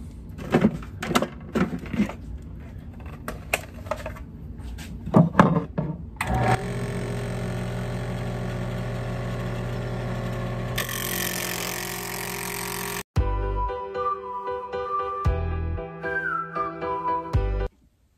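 Wood being turned on a lathe into a salt and pepper shaker: a few knocks and clunks, then a steady loud motor hum with tonal whine, a brief cut-off, and the machine running again with shifting pitch.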